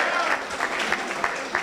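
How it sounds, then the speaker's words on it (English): Brief applause from a gathered audience at a sports scholarship signing event, honoring a former coach, with a dense wash of clapping and a few louder claps popping through at a steady pace. "Can y'all please clap it up for him?"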